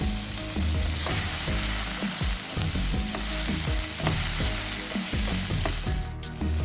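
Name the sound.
stir-frying with celery and spring onion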